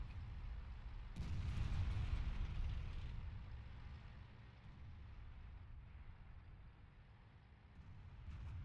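Tank main gun firing in quick succession during an online tank battle game, a heavy booming burst that swells loud around the second mark, then rumbling explosions trailing off into lower background battle noise.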